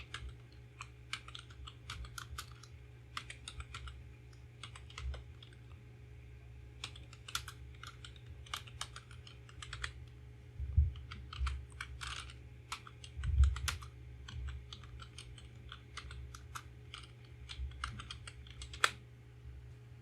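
Someone types on a computer keyboard while entering data into an Excel stock sheet. Soft, quick keystrokes come in irregular bursts over a quiet room hum, with a few heavier thumps.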